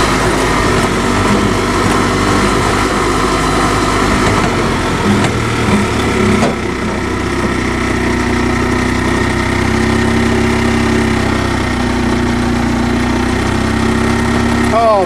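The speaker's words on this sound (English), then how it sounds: "here's the old Ezgo golf cart. We're going to use that." An EZGO golf cart with a CVT transmission climbs a big hill. Its small engine drones loudly and steadily at close range for the whole stretch, straining with a buzzing, mower-like tone.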